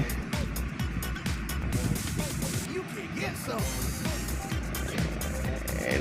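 A hired auto rickshaw carries passengers with a steady, close engine rumble and road noise. Muffled voices sound faintly beneath the motor.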